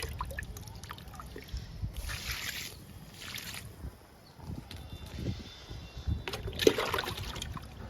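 Liquid fertilizer poured from a container onto potted flower plants in a home garden, soft intermittent trickling and splashing bursts against soil and leaves, close and fairly faint.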